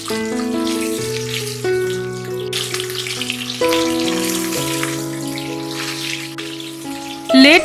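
Bubbling, crackling sizzle of fish frying in oil in a kadhai for Bengali fish curry, steady and close throughout, with tonal clinks and a louder rattle at the end.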